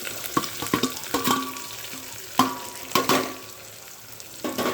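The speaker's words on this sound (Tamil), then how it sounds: "இதில் பெரிய வெங்காயம் போட்டுக்கலாம்" Big onions go into hot oil in a pan while cooking a cassava kurma, giving a steady sizzle broken by clinks and scraping stirs of a spoon against the pan.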